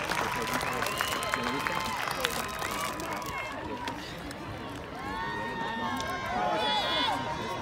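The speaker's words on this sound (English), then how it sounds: "Can we clap it up for our parents real quick?" Graduation audience clapping and cheering for the parents, a dense continuous wash of applause from a large crowd that swells again toward the end.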